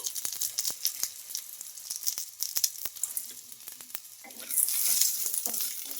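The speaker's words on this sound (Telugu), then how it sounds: "ఈ పుట్నాల పప్పు కూడా వేసేసుకొని బాగా ఫ్రై చేసుకోవాలి కొంచెం కలర్ మారే వరకు అయితే ఫ్రై చేసుకుందామండి" Roasted gram dal fries in a pan with garlic and chopped ginger, giving a soft, steady sizzle punctuated by sharp clicks of stirring, which swells into a louder hiss near the end.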